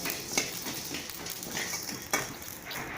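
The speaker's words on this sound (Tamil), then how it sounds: "பாருங்கள், நல்லா இது மாதிரி வறுத்துக்கோங்க." Curry leaves roasting in a pan for curry leaf podi, giving a faint, steady sizzle with soft scraping stir strokes and a couple of sharper clicks, no voices.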